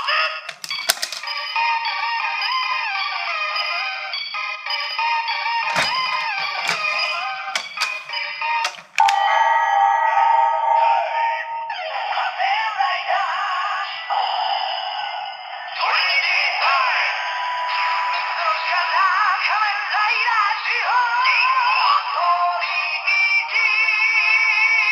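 DX Trinity Ridewatch toy from Kamen Rider Zi-O playing its Trinity time sound, a bright electronic jingle with clicks, voice effects and layered music, loud and continuous throughout.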